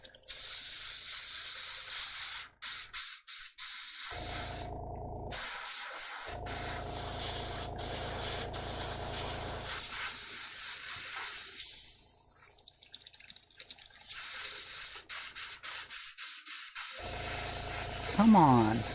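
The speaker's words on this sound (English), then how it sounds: "I like it when the airbrush works." An airbrush sprays in bursts of fine hissing air, starting and stopping repeatedly with short silent gaps between sprays, and a person speaks at times between the bursts.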